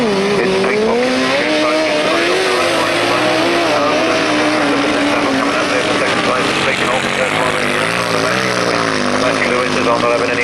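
Grasstrack racing machines at the 1991 Frittenden Flyer meeting roar around a turn and down the next straight, loud and continuous with wavering engine pitch as they pass, under a commentator talking.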